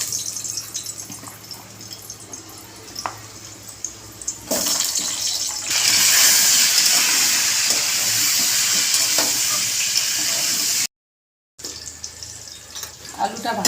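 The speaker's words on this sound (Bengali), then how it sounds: "আলুটা ভেজে নেব।" Potatoes frying in hot oil for a chicken curry, a steady crackling sizzle that swells louder midway and drops out briefly near the end.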